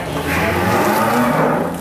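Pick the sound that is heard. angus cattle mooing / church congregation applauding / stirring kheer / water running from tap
angus cattle mooing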